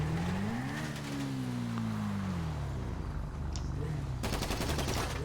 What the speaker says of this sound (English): You got automatic gunfire, you get the hell out.